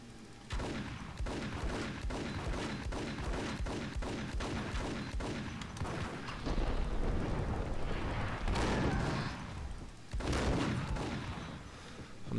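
Shotgun blasts and heavy gunfire in the action game Max Payne, a dense run of loud, repeated booming shots with explosive bursts continuing throughout.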